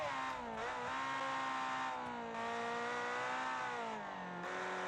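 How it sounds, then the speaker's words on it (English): A flat-plane V8 race car in a racing game screams at high revs, a loud continuous wail whose pitch dips and climbs with gear changes, alone without talk. "a flat plane V8 screaming all the way up to 10 grand is it's gonna be loud"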